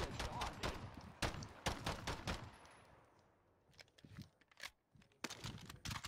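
Gunfire in the Warzone video game, sharp separate shots and short bursts, fairly loud at first, then thinning into a quieter spell before more scattered shots crack again near the end.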